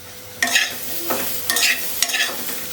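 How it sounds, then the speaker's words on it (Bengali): Chillies and ginger fry in a pan for homemade red chilli sauce, a steady sizzle broken by four loud scraping stirs at regular intervals, close and without talk. "মোটামুটি দুইশো গ্রাম মরিচ আছে চার টুকরো আদা ভেজে নেব"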